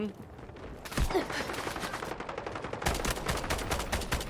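Sustained rapid gunfire in the video game Delta Force, a long burst of fast automatic shots with a brief pause before the firing resumes, loud and dense throughout.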